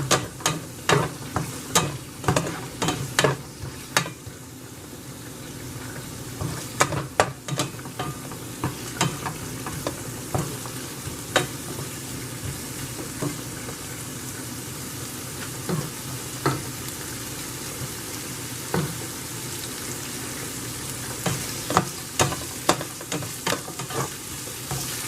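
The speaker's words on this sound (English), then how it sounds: "we're just gonna saute these onions, get them nice and caramelized for our patty melt" Onions sautéing and caramelizing in a pan for a diner patty melt, a steady close sizzle with repeated scraping stirs and utensil clicks throughout.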